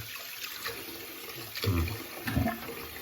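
Hot water running from a bathroom tap during a straight razor shave, a steady close splashing flow that swells louder in two surges near the end.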